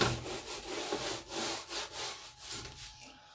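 Repeated back-and-forth rubbing strokes of a duster wiping chalk writing off a classroom board during a maths lesson, a soft, rhythmic scrubbing close by, with no voice over it.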